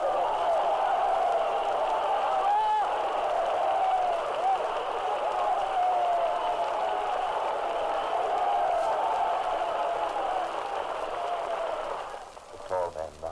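A large crowd in Paris roars and applauds continuously at the Liberation, a dense distant wash of cheering that fades slightly at the end.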